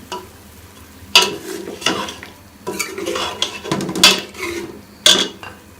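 A spoon scrapes and clanks against a pot in irregular strokes while meat and garlic paste sizzle softly underneath, close up.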